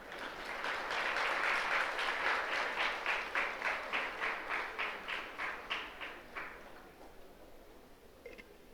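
An audience at a spiritual discourse on Sanatana Dharma claps together, the applause swelling quickly and then breaking into rhythmic, evenly spaced group claps that gradually fade toward the end.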